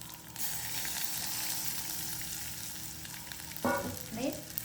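Tomatoes and turmeric sauté in a hot pan, giving a steady, fairly quiet sizzle throughout. Near the end come a couple of brief stirring scrapes and clinks.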